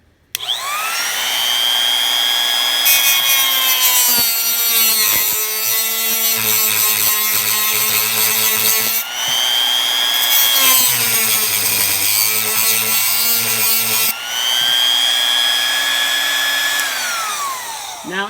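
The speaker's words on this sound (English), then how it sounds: "Now you can use a normal Dremel." A Dremel rotary tool grinds off machine tag rivets in three sustained loud passes, its high whine dipping and rising as it bears into the metal, with brief gaps between runs.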